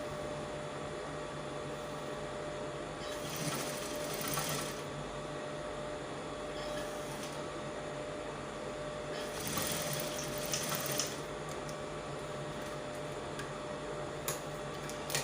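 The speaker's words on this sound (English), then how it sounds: "So here I'm just sewing my shoulders together." Sewing machine stitching the shoulder seams of a dress, a steady continuous motor whir with a few brief louder bursts, close and alone without talk.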